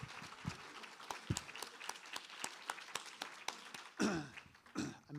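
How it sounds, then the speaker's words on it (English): An audience at a faculty presentation claps in scattered, distinct hand claps, some sharp and close, forming loose applause that swells briefly near the end. "Asako Serizawa, everyone, some more applause, please."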